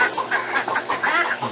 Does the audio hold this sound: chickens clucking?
yes